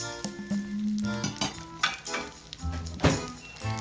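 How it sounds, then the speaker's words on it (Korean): Korean pancakes (jeon) of wild greens such as chwinamul and gomchwi fry in a hot pan, giving a steady close sizzle with occasional light clinks of tongs and cookware. "비도 오고 해서 전을 지져봅니다"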